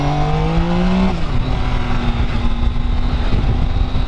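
A Yamaha MT-07 motorcycle accelerates hard, its loud close engine whine climbing through a gear, then dropping into a steady lower drone after the shift as it cruises on the road.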